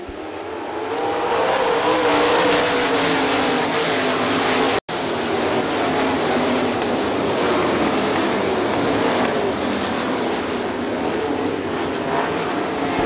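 Sprint cars roar around the dirt oval at Hartford Speedway Park on a restart out of turn 4, a loud, continuous wall of engine noise holding steady throughout with one brief dropout near the middle.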